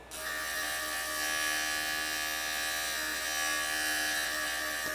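A JOOLTOOL grinder works a turquoise slab into a cabochon, giving a steady high electric whine that starts abruptly and holds at an even, close level with no speech.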